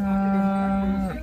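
A bull at a cattle market in Patoda, Dharashiv, lets out one long, loud, close moo that holds steady before falling away at the end.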